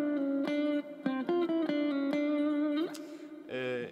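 Guitar playing double stops, two notes sounded together, in a short run of plucked, ringing pairs with slides between them, close and alone.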